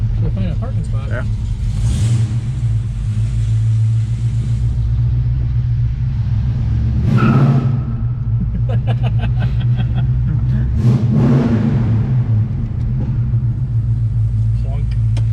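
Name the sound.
car driving around looking for parking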